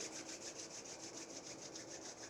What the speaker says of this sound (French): On les frotte l'une contre l'autre jusqu'à ce qu'elles soient bien chaudes.